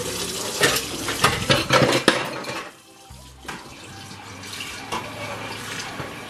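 Running tap water pours into a sink while something is washed, a splashing rush with clinks of dishes at first, then a brief lull and a softer steady trickle.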